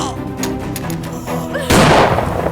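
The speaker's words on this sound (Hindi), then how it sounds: "तूने मुझ पर ही गोली चला दी।" Amid a dramatic music bed, a sudden loud blast hits and rings out, like a single gunshot with a booming tail.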